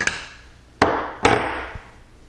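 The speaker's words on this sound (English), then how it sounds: "we can get the bolt slide out" A rifle bolt is slid out of its receiver, heard as a few sharp, close metallic clacks and knocks with short ringing decay, separated by brief quiet gaps.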